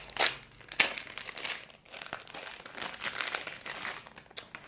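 An ice cream wrapper being torn open, a close run of plastic crinkling and crackling with sharp tearing bursts, with no one speaking over it.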